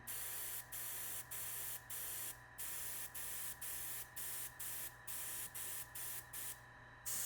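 Short bursts of spray paint hiss over stencils on an F-16 model, about a dozen evenly spaced sprays with brief gaps, close and steady over a low background hum.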